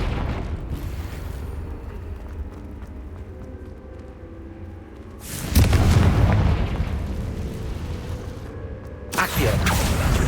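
In Hogwarts Legacy, a Confringo blasting spell detonates with a deep, loud explosive boom, and a second blast follows a few seconds later, both over a rumbling game background.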